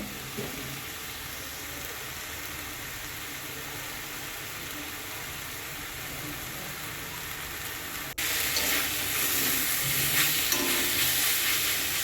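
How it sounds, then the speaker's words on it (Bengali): Water spinach (kalmi shak) sizzles as it is stir-fried in a pan, a steady close frying hiss running throughout with no talk, growing slightly louder and brighter partway through. "ভালো করে নেড়ে চেড়ে ভেজে নেব"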